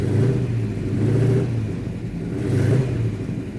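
Big-block 1967 Hemi GTX engine pulling hard under acceleration on the road, a loud, steady mid-range roar that swells and eases in two long surges, with no talk over it.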